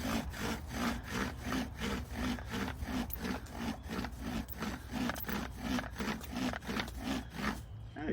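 A wooden spindle spins back and forth under a bow drill, making a steady, rhythmic rasping friction with about two strokes per second, close and continuous for several seconds.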